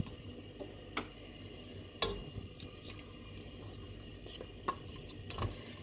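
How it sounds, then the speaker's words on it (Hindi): Haleem being fried and stirred with yogurt in an open pot: quiet sizzling under scattered sharp taps and scrapes of a spoon against the metal pot, several distinct knocks spaced irregularly, no voices. "अब मैं इसकी भुनाई कर लेती हूँ।"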